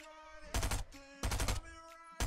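Stinger submachine gun firing in Fortnite, three loud bursts of rapid automatic fire separated by short pauses, with a steady hum of game ambience between bursts.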